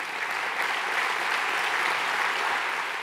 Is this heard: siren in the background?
no